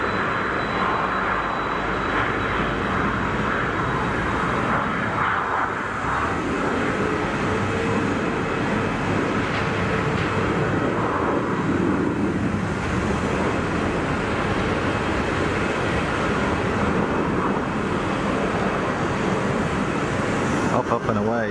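A jet aircraft takes off at Geneva Airport, its engine roar broad and sustained throughout, with a voice speaking over it at times.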